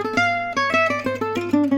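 An acoustic guitar plays the second half of a lick in gypsy jazz style, a short, close phrase of crisply picked notes in steady rhythm, ending on a brief held note.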